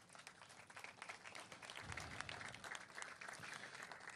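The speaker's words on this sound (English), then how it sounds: "Please give yourselves a round of applause." An audience at a mayoral bill-signing event for a sustainability act gives a round of applause, a sustained patter of many hands, fairly distant and soft, with no speech over it.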